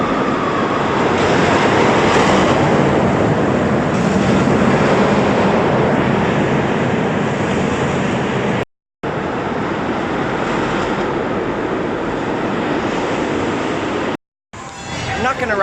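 A space shot amusement ride runs inside a mall in Edmonton with a loud, continuous, rushing roar that fills the space, broken by two brief cutouts.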